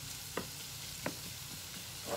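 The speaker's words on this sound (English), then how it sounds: "I'm just sauteing this up." Chopped vegetables sautéing in a pot for ham and potato soup, a quiet steady sizzle broken by three short spoon scrapes.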